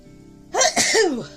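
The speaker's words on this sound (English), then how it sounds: "that sneeze blew it all out of my mind" A single loud sneeze erupts close up after a quiet moment, with a sharp burst and a breathy trailing release.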